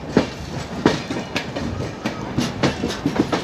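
The 12615 Grand Trunk Express rolls around a curve at Nagpur, its wheels clacking rhythmically over rail joints in a steady, close rumble.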